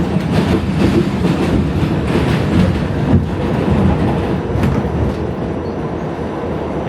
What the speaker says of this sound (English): New York City still has one of the loudest subway systems in the world.